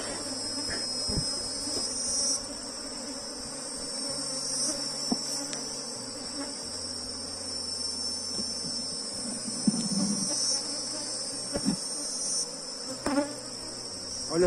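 Apis honeybees swarm over a frame lifted from a hive box, making a dense, steady buzzing that stays close and loud throughout, with individual bees droning past and no talking.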